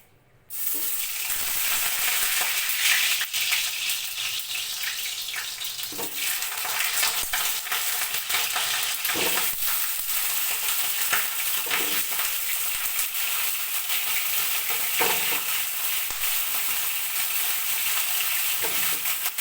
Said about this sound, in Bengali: এবার কালো জিরেটাকে আমি শুকনো কড়াইতে ভেজে নেবো।